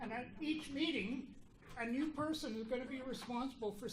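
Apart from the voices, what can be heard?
None of the usual background noises is heard.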